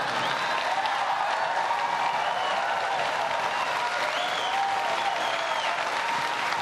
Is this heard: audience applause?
yes